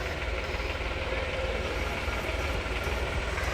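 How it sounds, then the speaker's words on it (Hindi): A tractor engine pulling a car that is stuck in a ditch on a rural road, a steady low rumbling drone that stays continuous and fairly loud throughout, with no voices. "ट्रैक्टर खींच रहा है ये भैया, इधर खाई है उधर भी खाई है, बीच में जा रही है गाड़ी।"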